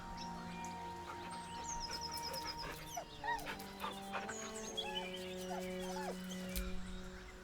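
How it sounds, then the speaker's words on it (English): A dog in the video game Baldur's Gate III whimpers nervously, a series of high, wavering whines and short yips over a soft musical backdrop, moderately close. "The dog whimpers nervously,"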